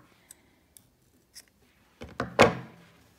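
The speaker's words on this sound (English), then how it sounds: "we're just going to cut the yarn, leaving a long tail." Scissors cut yarn during a crochet project: a few faint isolated clicks, then a louder cluster of close snips at the end.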